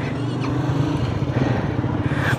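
A motorcycle engine that is seldom used sputters and struggles to stay running. The rough, uneven engine noise is loud and close, continuous throughout, with no one talking over it.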